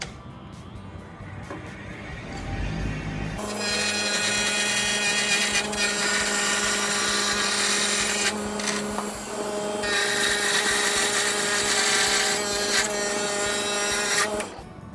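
A wood lathe motor whines up to speed after a quiet start, then runs steadily and loudly with a broad rushing cut of a chisel against spinning wood, dipping briefly near the middle before resuming.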